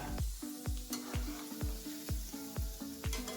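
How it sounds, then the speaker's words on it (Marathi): Cheesy balls made from bajra millet flour deep frying in hot oil while being turned, giving a continuous close sizzle with rhythmic clinks of a utensil against the pan. "आता हे उलटा पालट करत आपण तळून घ्यायचे."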